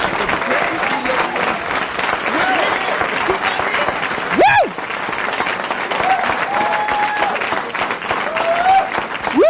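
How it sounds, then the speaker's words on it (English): A comedy club crowd applauds comedian Louis C.K. onto the stage in 1989, a loud sustained round of clapping with cheers and voices mixed in. "Nice round of applause"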